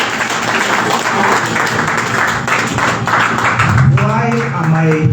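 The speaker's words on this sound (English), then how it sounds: "the leaders, deserve a resounding round of applause" A political rally crowd breaks into loud, sustained applause, and a voice speaks over the clapping toward the end.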